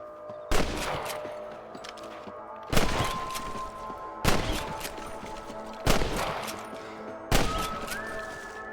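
Gunfire in Red Dead Redemption on PC: five loud, sharp shots spaced about a second and a half apart, each ringing out into a short echoing decay, with no talk over them.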